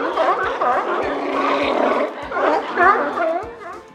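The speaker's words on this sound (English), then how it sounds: "Sea lion." A wild sea lion calling with loud, repeated, throaty barking calls that bend in pitch, close and prominent over a steady rhythmic beat in the background.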